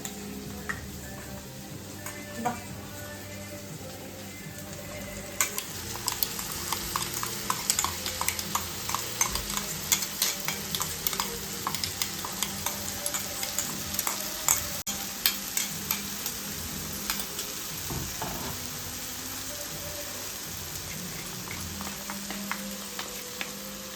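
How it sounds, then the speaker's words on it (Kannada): Food frying in a pan during preparation of a pattadi kaalu palya, with a steady low sizzle and frequent quick scraping stir strokes, close and fairly quiet, without voices. "ಫ್ರೈ ಮಾಡ್ಕೊಳ್ಳಿ"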